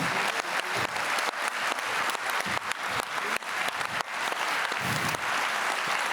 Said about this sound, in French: Un maximum d'applaudissements s'il vous plaît